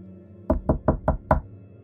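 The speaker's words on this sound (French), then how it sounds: "Soudain, Donna était réveillée de son rêve par un étrange bruit de tapotement." Five even knocks tap out in quick succession against a quiet room, close and hollow, spaced about a fifth of a second apart in a horror story sound effect.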